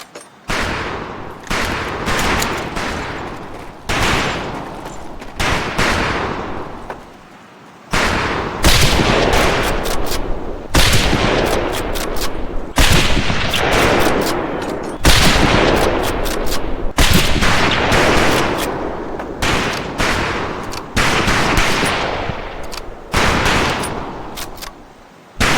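Loud, dense gunfire at a shooting range in the video game Medal of Honor Pacific Assault, with rapid bursts and repeated shots, brief pauses, and sustained automatic fire.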